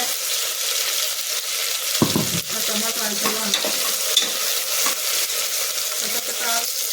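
Thickly cut onion and tomato fry in a pan with a loud, steady sizzle and intermittent scraping as they are stirred, close up, with a brief clatter partway through and a voice faintly underneath.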